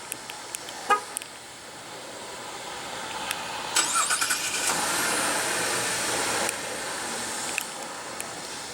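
A 2016 Chevrolet Colorado Z71 pickup's 3.6 L V6 engine starts by remote start after a few short clicks and a brief horn chirp, then settles into a steady idle.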